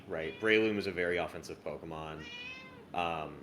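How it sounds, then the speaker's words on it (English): A pet cat meows repeatedly and loudly in a drawn-out, wavering voice, overlapping and alternating with someone talking nearby indoors. "Sorry if you can hear me over my cat here."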